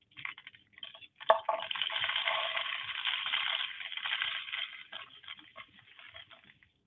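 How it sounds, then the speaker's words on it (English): Rice and beans poured down the tube of a homemade rain stick, a steady close patter and rustle of grains that builds, holds for several seconds, then thins to scattered ticks. "Traditional rain sticks are oftentimes made with pebbles, but what I have here is a little cup of rice and beans."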